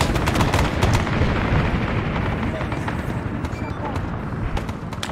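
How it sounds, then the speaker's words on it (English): Heavy .50 cal machine gun firing in Arma 3 during a hot helicopter extraction in SOG: Prairie Fire, sharp repeated bursts with booming echoes and distant explosions, radio-style voices talking over the firing. "Get on that fucking 50 cal."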